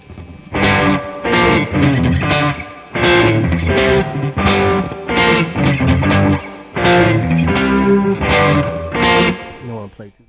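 Electric guitar through a Chase Bliss Brothers AM pedal at full gain distortion: loud, gritty chords struck in a rhythmic run of bursts with short gaps between them.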